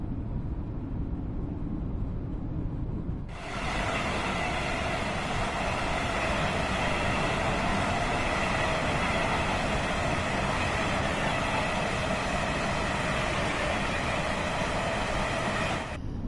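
A Class 805 train in Train Sim World 6 gives a steady, loud rolling drone. A brighter engine hum sets in abruptly after a few seconds and holds level until it cuts off near the end.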